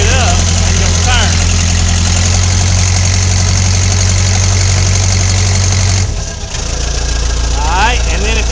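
A tracked vehicle's engine runs loud and close, idling with a steady low throb and rising in revs as one track is put in high to turn; a brief dip near the end, then the engine roars on, with occasional voices over it.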